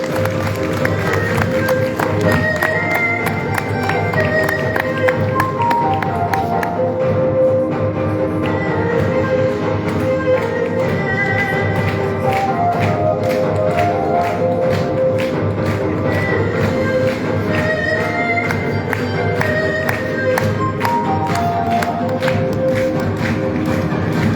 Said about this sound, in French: Merci à toutes les personnes qui applaudissent.